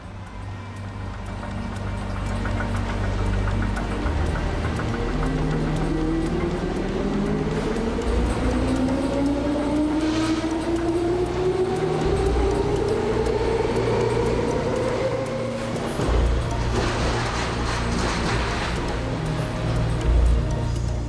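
A class 420 electric S-Bahn train at Galluswarte station in Frankfurt gives a steady rumble, and its traction motors whine in a tone that climbs gradually as it pulls through. No voices are heard.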